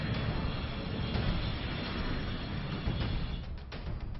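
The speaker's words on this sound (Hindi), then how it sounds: "इस युद्धाभ्यास में वायुसेना के कई ताकतवर फाइटर जेट शामिल हो रहे हैं।" Indian Air Force fighter jets flying during an exercise near the Chinese border, a continuous loud roaring engine rush that holds steady, with no voices.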